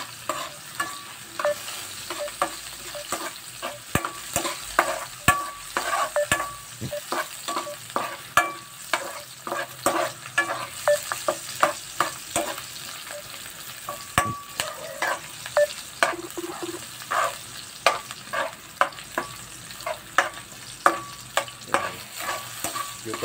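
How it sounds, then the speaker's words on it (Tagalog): Garlic sizzles in a hot pan for pork adobo while a utensil stirs and scrapes it, giving a steady crackling fry punctuated by frequent clattering knocks, close up and without talk. "At lagay na rin natin yung ating bawang."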